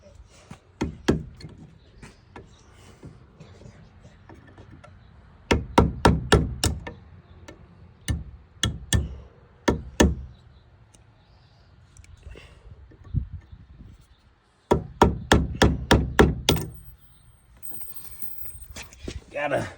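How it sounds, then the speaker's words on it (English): A hammer taps a drill bit used as a punch to drive out a roll pin on a tractor, coming in quick bursts of sharp metallic strikes with pauses between, while someone talks. "roll pin that goes through there, and we're gonna get that tapped out"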